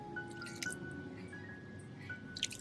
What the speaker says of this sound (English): After trimming the damaged roots, I'll rinse the orchid base with clean water.